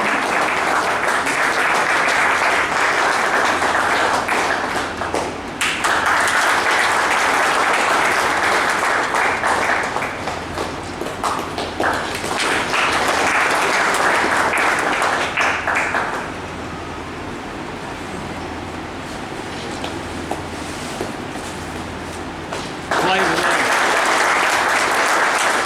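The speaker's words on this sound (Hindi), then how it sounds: "तालियों के साथ स्वागत कीजिए" Audience at a wage agreement ceremony claps to welcome a guest on stage, sustained loud applause in waves with brief lulls and a quieter stretch before rising again.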